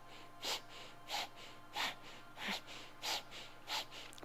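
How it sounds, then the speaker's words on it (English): Quick, forceful breath-of-fire exhalations during a Kundalini yoga class, a near, regular series of six or seven sharp snort-like puffs through the nose over a faint steady hum, with no speech. "start the breath of fire"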